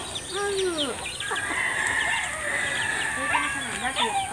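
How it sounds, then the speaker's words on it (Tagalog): Farm chickens cluck and chirp busily while being fed scattered feed in a rural province yard, with overlapping close calls, and a person talks over them. "patuka ng mga manok."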